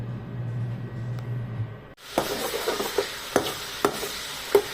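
Raisins and almonds are fried lightly in cooking oil in a kadhai: a soft sizzle with repeated scraping stir strokes starts halfway through, following a quieter humming opening.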